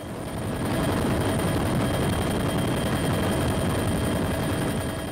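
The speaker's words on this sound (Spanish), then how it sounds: "Los helicópteros Hughes 500," A police helicopter, a Hughes 500, Ranger 206 or Bell 407 type, flies overhead at night, its rotor and engine giving a loud, steady, unbroken roar that holds for the whole stretch without voices.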